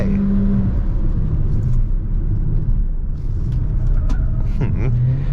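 An MG ZS HEV hybrid with 177 horsepower driven through a curve on a track, giving a steady close engine and road rumble with a low hum and a faint whir that swells slightly toward the end.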